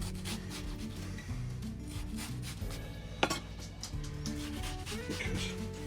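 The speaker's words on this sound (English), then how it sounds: "So very finely chopping the red onions." Red onions being very finely chopped with a knife, a steady run of quick blade taps on a board, close and fairly quiet, with one sharper knock partway through.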